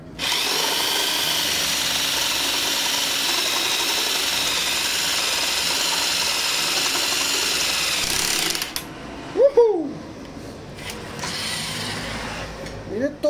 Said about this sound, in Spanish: cambié el taladro por este demoledor